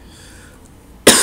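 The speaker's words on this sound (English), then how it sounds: "Hopefully this cough goes away soon." After near silence, a single sharp, loud cough bursts out at the very end, close and brief.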